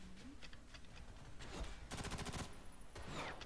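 Rapid bursts of automatic gunfire and scattered single shots from a battle in the online shooter FirstAssault Online, loud and close, with a dense rattling volley in the middle and lighter shots around it.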